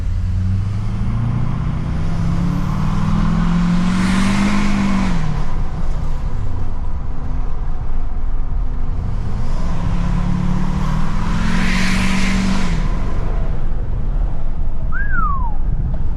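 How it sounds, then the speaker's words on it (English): A heavy LML Duramax diesel pickup engine with deleted emissions drones steadily from inside the truck, in tow/haul mode with the exhaust brake on, its pitch rising twice as it revs up, with a faint whistle near the end. "right now we got it in tow haul with the exhaust brake on, so give you a little sound clip of that."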